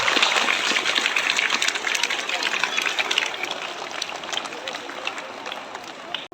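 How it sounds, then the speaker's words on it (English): A big round of applause from a school audience at an investiture ceremony, a dense steady clatter of many hands filling the clip and fading out at the very end. "please join me in welcoming them with a big round of applause"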